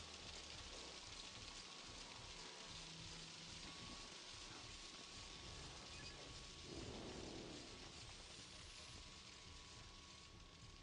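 Rain and thunder from the video game Outlast: a faint, steady hiss of rainfall with a low rumble swelling briefly partway through, alone without talk.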